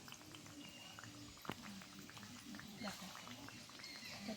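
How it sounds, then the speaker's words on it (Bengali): Flour and sugar sweets frying in medium-hot oil, a steady soft bubbling hiss that runs under continuous talking. "এবারে আমি কিন্তু মিষ্টিগুলো ভাজবো"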